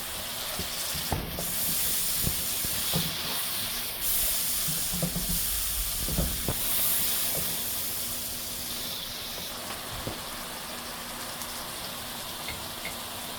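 Ground coriander, cumin and turmeric masala frying in oil, a hissing, spattering sizzle with intermittent stirring knocks and scrapes, close and fairly steady with no talking.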